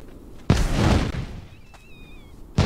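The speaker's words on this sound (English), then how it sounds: "Well, that was a big explosion." An explosion in the video game Conan Exiles at a burning base, a sudden loud boom with a rumbling tail, then quieter game sounds and a faint tone before another sharp burst at the end.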